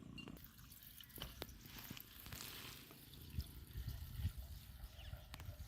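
Two-stroke oil pours from a bottle into a can, a faint, uneven liquid trickle with small drips and glugs at low level, no talking.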